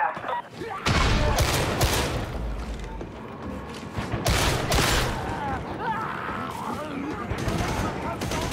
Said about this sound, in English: So satisfying shooting in this game.